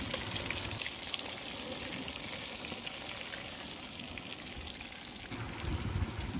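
Four local fish frying in a pan, a continuous dense crackling sizzle held at a steady level throughout, close and with no talking.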